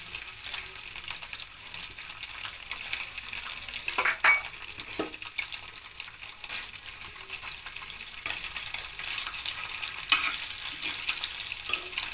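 Paneer pieces fry in a pan for a spinach curry, giving a steady, soft sizzle that holds across the whole stretch, with occasional light scrapes and clicks of stirring.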